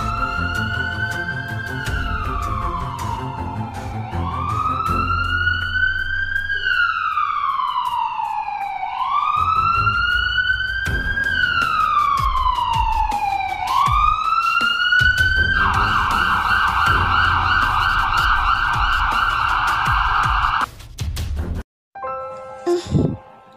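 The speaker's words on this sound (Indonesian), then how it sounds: "Bapak sabar sebentar, kami udah memanggil ambulans." A loud siren wails in repeated rising-and-falling sweeps, close and continuous, then switches to a faster yelping pattern near the end before cutting out.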